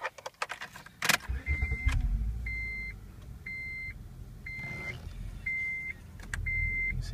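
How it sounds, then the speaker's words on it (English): A 2004 Acura TL with about 143,000 miles, keys jingling and a door clunk, then a short engine crank and start settling into a low idle, while a chime beeps in a regular repeating pattern; no talking. "Let's start it up."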